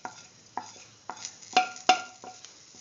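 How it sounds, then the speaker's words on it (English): Cumin and nigella seeds go into a hot pan of oil for an ash gourd and scrambled egg stew, with a soft sizzle under six or seven sharp, irregular spoon-on-pan scrapes and clinks, close and moderately loud, with no talking. "Now put in the cumin seeds and the nigella seeds"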